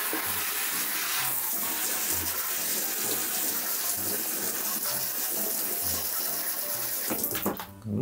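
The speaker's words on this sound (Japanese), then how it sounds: "はい、ではシャワーですすいでいきます。" Water from a shower sprays steadily against a bathroom door, a constant close hiss that shifts and splashes near the end.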